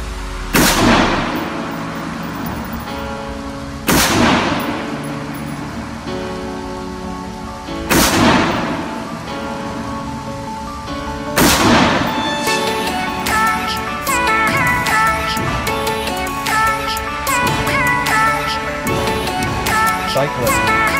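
Four loud, booming AR rifle shots at an outdoor shooting range, spaced a few seconds apart, each with a long rolling echo, with people talking faintly in between.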